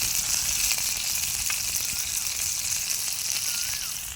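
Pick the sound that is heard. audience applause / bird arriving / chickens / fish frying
fish frying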